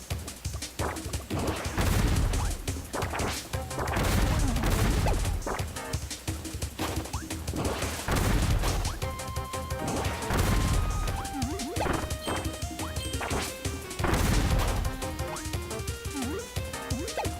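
Bomb Kirby's bombs, which look more like fireworks, go off in Kirby Returns to Dreamland. Repeated loud cracking blasts come in rhythmic clusters across the stretch, layered over bright, melodic game music.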